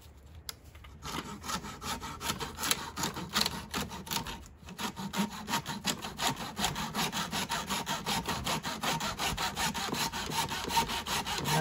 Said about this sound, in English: And then I'm gonna get sawing.